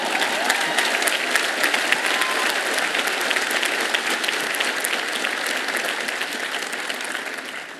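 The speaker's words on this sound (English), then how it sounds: "let's give a round of applause to our friends, family, and those who were there" A large commencement audience applauds steadily, dense clapping filling the hall at an even level throughout before easing slightly at the end.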